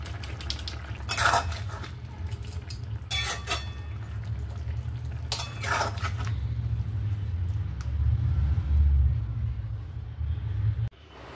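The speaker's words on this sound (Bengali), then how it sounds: "সবার শেষে একটু গরম মশলা দিয়ে নাড়িয়ে চাড়িয়ে নামিয়ে নিতে হবে।" Aloo motor paneer curry gets stirred in a pan after garam masala goes in, with a few short bursts of spoon scraping against metal over a low, steady background rumble, ending with a clunk.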